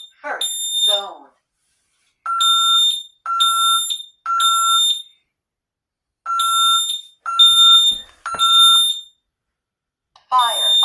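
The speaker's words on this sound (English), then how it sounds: "And now we'll go ahead and activate the EST SIGA. Fire alarm." An EST SIGA fire alarm sounding on an ADT Safewatch Pro demonstration board, giving loud, close, repeated electronic tone bursts in groups with short gaps, and a voice speaking at the start and end.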